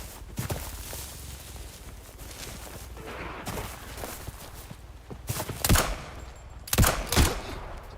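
Gunfire in the video game Active Matter: scattered bursts of automatic shots and bangs over a busy rumbling game soundscape, with two louder, closer volleys near the end.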